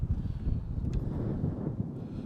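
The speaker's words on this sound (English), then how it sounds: "It's windy around here, mate." Wind on a golf course, a low, blustery rumble buffeting the microphone continuously with fluctuating gusts.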